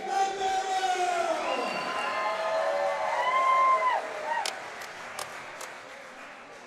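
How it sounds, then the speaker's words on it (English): A fight-night crowd at Proving Grounds cheers and applauds a fighter, a sustained swell of clapping with whoops and shouts, loud and close, thinning toward the end. "let's give a big round of applause for Ezequiel"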